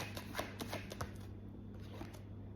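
Tarot cards being shuffled and drawn, heard as soft, rapid papery flicks and riffles close by, faint over a steady low hum.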